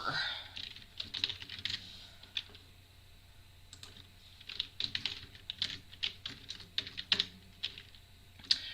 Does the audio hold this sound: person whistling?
no